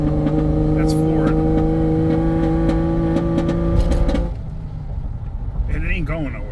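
A floored car engine with a suspected plugged exhaust or badly off timing drones at a steady, strained pitch, close and loud, holding flat without climbing for about four seconds before easing off as a voice talks.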